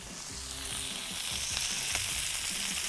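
Chicken frying in a pan for a mushroom and caramelized onion soup, a bright steady sizzle that grows slightly louder, with faint low clatter beneath and no voices.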